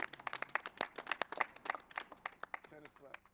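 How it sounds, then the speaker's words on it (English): A small audience claps at the close of a King Richard film interview, scattered sharp hand claps in an uneven rhythm, close and fairly dry, with voices and movement mixed in. "Tennis clap."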